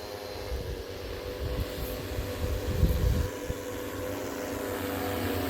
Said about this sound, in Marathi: ड्रोननी तूर फवारणी करीत आहोत